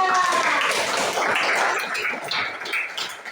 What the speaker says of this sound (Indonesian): Tepuk tangan untuk Nanda